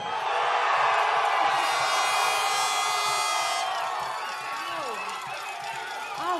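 A crowd at a Canelo vs Golovkin boxing press event in New York City cheers and whoops loudly, with sustained shouting and a high whistle-like tone over the noise, then easing off.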